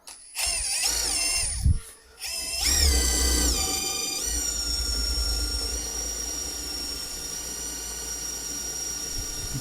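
A Procraft ID20A impact driver bores into a thick steel angle from an old Soviet bed frame, starting with a couple of short bursts, then settling into a loud, steady high-pitched whine with screeching metallic overtones, close up.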